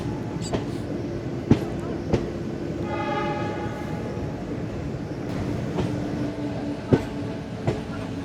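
The diesel-hauled 12467 Leelan Express from Bikaner to Jaipur rumbles along steadily from on board, a constant roar of wheels and carriages with a few sharp rail clicks and a faint horn-like tone in the middle.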